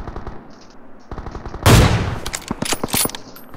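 BGMI gunfire: faint, scattered pops at first, then a loud burst of rapid automatic shots followed by several sharp single cracks, close and punchy.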